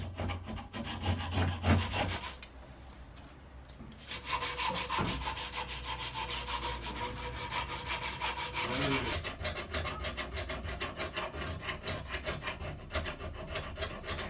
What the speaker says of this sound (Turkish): Arkadaşlar zımpara işlemiyle beraber eğleme işlemi yapıyoruz.